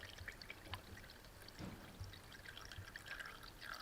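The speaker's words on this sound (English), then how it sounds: "I'm just going to take some clear H2O and pour it in here and see what it does" Clear water poured from a bottle into a car radiator, a quiet steady trickling stream with faint splashes.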